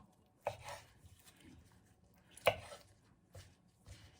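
A knife chops pork foot tendon on a board while preparing an Isan-style spicy sour salad with cabbage and spring onion; a few sharp, separated chops sound fairly faint, with quiet pauses between them.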